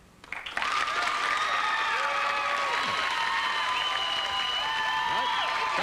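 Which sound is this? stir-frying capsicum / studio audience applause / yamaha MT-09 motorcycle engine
studio audience applause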